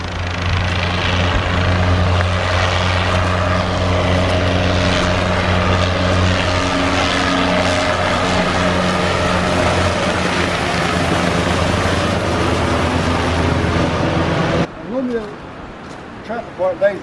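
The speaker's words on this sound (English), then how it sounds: "The helicopter." A helicopter flies over a remote New Zealand river, its loud, steady rotor drone and engine hum holding for about fifteen seconds before cutting off abruptly, and voices are heard at the very end.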